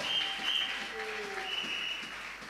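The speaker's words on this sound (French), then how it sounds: "On acclame encore très fort le roi des rois." A church congregation applauds steadily through a worship service, the clapping dense and continuous with voices rising faintly underneath.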